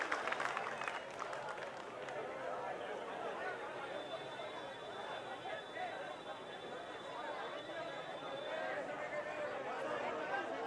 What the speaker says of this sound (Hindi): मनोज गुर्जर के लिए जोरदार तालियां बजाइए